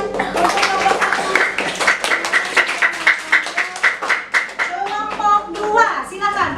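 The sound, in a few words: children clapping for group 1 in class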